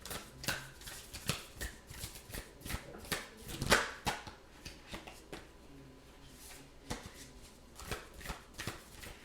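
Soft, rapid riffling and slapping of a deck of oracle cards being shuffled close by, in uneven bursts with brief pauses, quiet and without talk.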